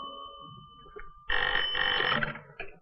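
A telephone bell rings loudly in a single sustained burst, preceded by a faint tone and some quiet background noise, in a 1956 film.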